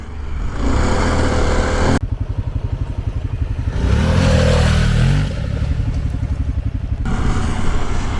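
Harley-Davidson Pan America motorcycle ridden hard off road on street tires, engine roaring loud and steady with rough pulsing revs, a brief surge in the middle, plus wind rush throughout, close and without talk.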